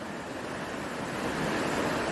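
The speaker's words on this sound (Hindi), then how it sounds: "और अगर शायद आपको पानी की आवाज़ आ रही हो तेज तेज" Fast-flowing river water at an outdoor spot with large rocks, a dense, steady roaring rush that swells slightly louder toward the end, heard alone without voices.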